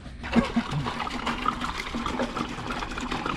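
Water splashes and trickles steadily into a container, a continuous pouring sound close by after a short quiet start.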